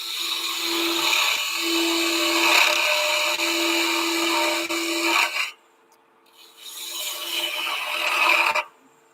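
A wood lathe spins as a tool cuts away wood on a piece steadied by the tailstock. The cutting makes a loud, steady rasping hiss over a constant motor hum, breaks off for about a second, then resumes. Nobody speaks.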